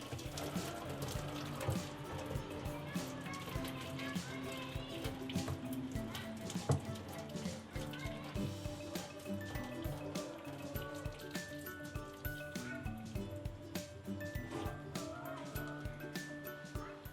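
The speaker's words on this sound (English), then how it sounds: "Now drain the water and keep aside." Water pours and splashes steadily as boiled chicken liver is drained in a kitchen, a continuous soft trickling with faint drips and no talking.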